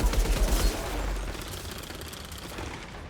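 Rapid automatic gunfire from Outriders Worldslayer, a dense, steady stream of shots with heavy low thumps at the start, close and loud throughout with no talk.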